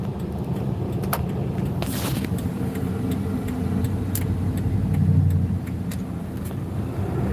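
A car on a snowy Michigan road rolls past a parked vehicle, its engine and tyre hum a steady low rumble that swells briefly as it passes close, with a few sharp clicks over the top.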